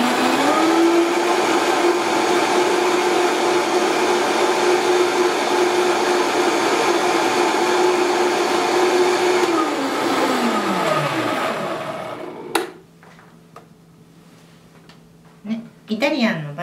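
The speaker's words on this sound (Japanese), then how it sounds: "材料を入れてミキサーを回すだけです。" A kitchen blender runs steadily, mixing a dressing of balsamic vinegar, olive oil and soy sauce, whirring loudly for about twelve seconds before winding down, followed by quieter handling sounds.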